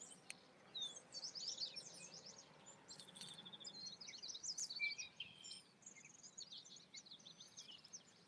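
Wild birds sing outdoors beside a river during a catfishing outing: faint, distant chirps and tweets that come and go over quiet background ambience, with no talking.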